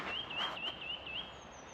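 A small white-and-red greater spotted woodpecker calls outdoors by a river, a run of about five quick, thin rising chirps in a row, faint and somewhat distant against steady background hiss.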